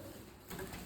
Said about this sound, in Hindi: ये यहाँ पे कबूतर बैठे हैं